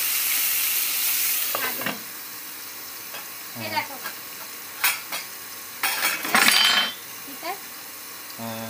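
Stingray fish pieces frying in hot oil, a steady sizzle with occasional clinks and stirring scrapes, while people talk briefly in the background.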